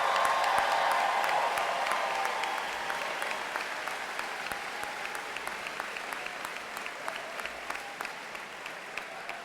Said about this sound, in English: How about one more round of applause for the great Denison class of 2018?